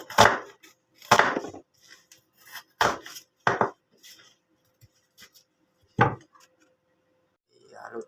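Onion being chopped for ginisang gulay, a few separate knife thuds on a board at uneven intervals with quiet gaps between, close and clear, alongside occasional brief talk.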